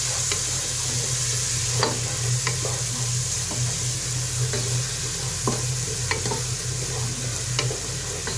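Spices and turmeric powder sauté in a hot pan with a steady sizzle, while a spoon scrapes and stirs in irregular clacks over roughly eight seconds, close and fairly loud.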